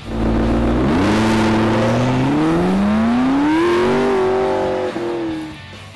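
A McLaren MP4-12C supercar with a mid-mounted twin-turbo V8 accelerates hard on a track, its engine note climbing steadily through the gears, loud and close, with a brief lift near the end and no voices.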